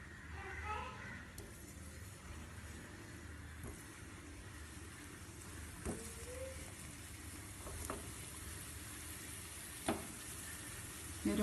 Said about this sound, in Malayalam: ഒരു ബ്രൗൺ കളർ ആവുന്നവരെ നമുക്കിത് ഫ്രൈ ചെയ്തെടുക്കാം.